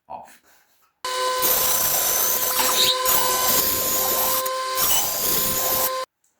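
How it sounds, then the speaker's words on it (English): Bandsaw slicing the corners off a wood log being prepared for the lathe: a loud, steady whining cut with a constant tone that runs about five seconds, briefly dipping midway, after a quiet start. "back to the bandsaw, we're going to take these corners off"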